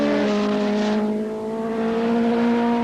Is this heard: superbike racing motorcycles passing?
yes